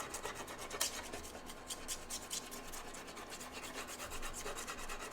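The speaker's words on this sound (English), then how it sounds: "now we're going to bring out some of the ridges by scribbling a bit of Distress Walnut Stain Crayon over the top" Distress Walnut Stain Crayon scribbled over textured die-cut card and smudged in with fingers, a steady dry rubbing and rasping that continues close and quiet throughout, with brief scratchy strokes and no talking.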